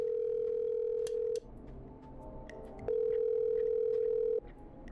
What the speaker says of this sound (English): Okay, I'm dialing.